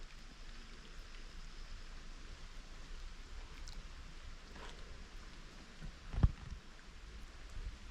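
Steady rain falls at Promised Land State Park, an even broadband hiss running throughout with a brief louder patter or splash near the end; no voices.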